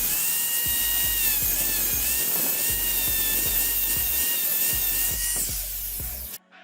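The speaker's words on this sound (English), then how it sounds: "I'm gonna cut this part of the plastic so I can adjust the camera there" A high-pitched whining rotary cutting tool grinds steadily through plastic trim on a 2014-2019 Toyota Tundra, with rhythmic low thumps beneath and a sudden stop near the end, no talk.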